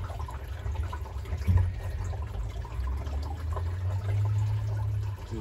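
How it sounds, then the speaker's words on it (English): Water gurgles and trickles as it drains back into a koi pond, a soft continuous sloshing with low rumbling underneath. "when it finally drains back to the pond, all the water"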